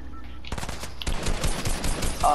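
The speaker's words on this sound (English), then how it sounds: "Somebody's shooting." Rapid automatic gunfire in the Fortnite video game crackles in quick bursts at moderate distance.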